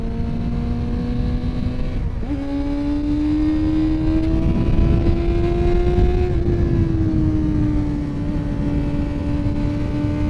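A Suzuki GSF250V Bandit 250 motorcycle ridden on Melbourne roads holds a loud, close, steady high engine drone that dips briefly as it shifts, then climbs gradually in pitch before easing back, with wind noise underneath and no talking.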